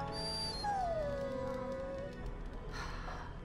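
A dog whimpering with a high drawn-out whine that slides down and fades, followed by softer breathy noises, close and alone, with no talking.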